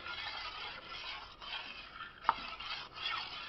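Lye solution stirred into oil in a soap-making pot, soft continuous swishing and scraping close by, with one sharp clink of the utensil against the container midway.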